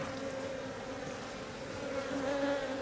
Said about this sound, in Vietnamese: còn ong đực đây